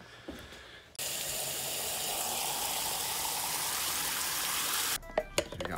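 Water rushes steadily into a homemade surf shower tank for about four seconds, a constant hissing gush that starts and stops abruptly, followed by a few light knocks.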